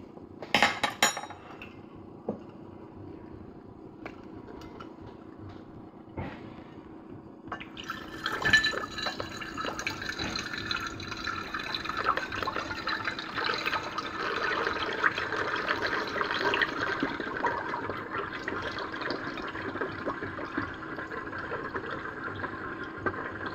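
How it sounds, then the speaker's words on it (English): Liquid yeast starter pours into a glass Erlenmeyer flask in a home lab, a steady splashing fill building over many seconds after a few clinks and drips of glassware. "I'm going to pour 1 liter of this starter into my Erlenmeyer flask"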